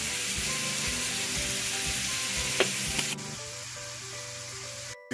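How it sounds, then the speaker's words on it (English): Vegetables and spices such as cumin and oregano sizzle steadily in a hot pan, with a dense frying hiss and a few scrapes of stirring; partway through the sound drops to a quieter, lower simmer. "So now it's time to put the vegetable in the pan."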